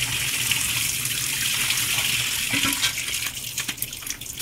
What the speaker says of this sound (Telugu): ఇప్పుడు ఏమంటే ఇవి చల్లటి వాటర్ పోసుకోవాలండి